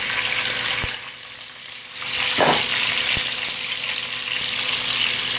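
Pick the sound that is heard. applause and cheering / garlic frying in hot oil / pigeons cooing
garlic frying in hot oil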